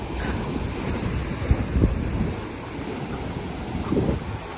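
Sea waves wash onto a beach at Boracay, a steady rushing surf with a few louder swells, heavily mixed with gusty wind buffeting the microphone and no voices.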